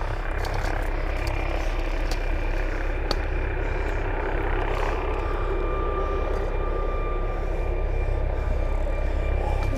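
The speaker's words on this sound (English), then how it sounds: "What actually is that? That's a helicopter." A loud, steady helicopter rumble fills the whole stretch, a continuous roar with a whining engine tone on top.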